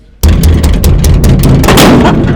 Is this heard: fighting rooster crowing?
no